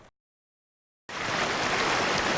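Fast-moving Matanuska River rushing as a dense, steady roar of flowing water, loud and close, cutting in abruptly after a moment of silence.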